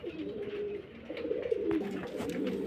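Pigeons offered for sale in Bangladesh coo softly and close by in low, rolling calls that overlap through the short stretch, with no talk.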